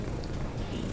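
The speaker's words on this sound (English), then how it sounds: "Purr for the microphone, please." A pet cat purrs very close to the microphone, a soft, continuous low rumble lasting about a second with no other sounds.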